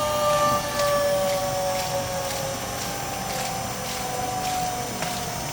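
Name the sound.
Seepex progressing cavity pump ramping down to 20 hertz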